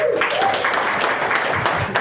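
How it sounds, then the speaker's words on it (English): Audience applause at an ATX Festival television panel in 2013, a steady wash of clapping over two seconds with some voices mixed in beneath it. "People seem less excited to clap for Scandal the second time around."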